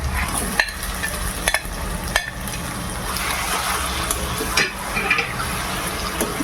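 Marinated mutton coated in Kashmiri chilli powder hits a hot pan and is stirred, giving a loud, steady sizzle with scraping stirs and occasional sharper clicks throughout.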